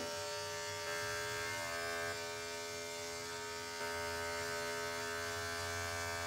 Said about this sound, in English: I'm using an Andis 5-speed for his pads.